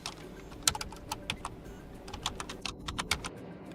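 Quick, crisp keystrokes on a computer keyboard while writing in an office editor on a Linux desktop, an irregular clatter of taps with a few louder presses, close and alone.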